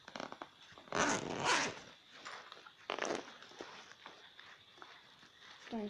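A zipper on a mesh net pouch from a horse grooming bag is pulled open in a few rasping bursts, close and fairly soft, with light handling rustle around it.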